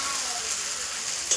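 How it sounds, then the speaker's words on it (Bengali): Spice paste (masala) frying in a pan as a chicken gravy cooks, giving a steady close sizzle with faint scraping as it is stirred. "দেখো, ভালো করে মশলাটা ভাজা ভাজা করছি"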